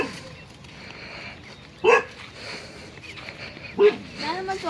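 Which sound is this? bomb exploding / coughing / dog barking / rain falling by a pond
dog barking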